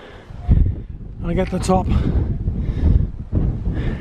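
Wind gusts buffet the microphone on an exposed ridge in the Brecon Beacons, Wales, with a steady blustery rumble under someone speaking close by.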